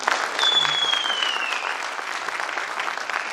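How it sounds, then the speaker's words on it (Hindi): A seminar crowd claps loudly and continuously in a hall, steady dense applause throughout, with a brief whistle-like tone cutting through early on. "बजाइए जोर से ताली"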